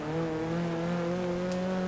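An Opel Manta rally engine in Forza 6 holds a loud, steady tonal drone close up, a constant engine note with no clear pause in pitch.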